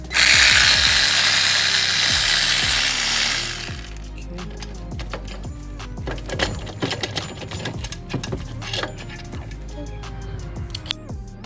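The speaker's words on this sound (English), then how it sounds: "maybe I can use ratchet." Ratchet wrench working on the alternator of a 2018 Toyota Camry, a quick run of dry clicking ratchet strokes and metallic taps following a loud hissing burst at the start.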